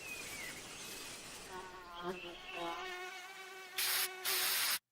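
A mosquito buzzes with a thin, steady whine that rises and wavers, heard as part of a repellent advert and ending in a brief loud burst of noise before silence.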